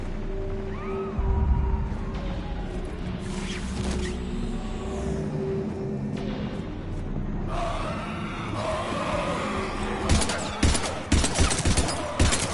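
Gunfire in the sci-fi shooter game Mass Effect 3 during a fight against husks: scattered shots and bursts over a rumbling game soundscape, growing into dense, loud volleys toward the end.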